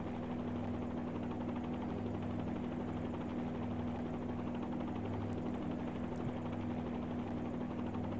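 Helicopter in a flight simulator game lifting off from an airfield, a steady droning rotor and engine hum with a constant low tone, continuous and even throughout with no talk.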